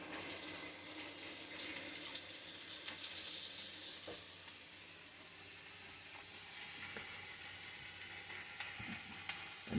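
Running water from a kitchen tap while a hand is rinsed under it, a steady hissing stream that shifts in tone as the hand moves, close and continuous with no talking.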